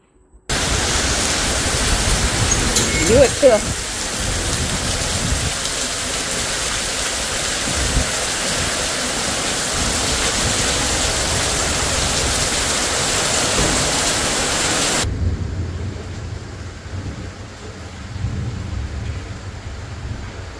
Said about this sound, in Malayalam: പുറത്ത് നല്ല ആർത്തളിച്ച മഴയും ഇടിയും ഒക്കെ ഉണ്ട്